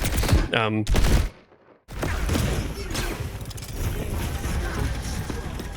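Rapid bursts of automatic gunfire in the Overwatch game on the Junkertown map, a short volley, a brief silence, then sustained loud shooting with game effects, and a voice talking over it.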